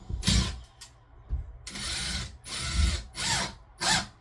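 A power drill drives screws into a wall during a custom shower build, sounding as several short, close whirring bursts with brief gaps and knocks between them.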